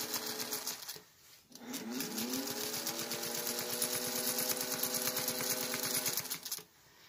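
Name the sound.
sewing machine stitching in the ditch on a placemat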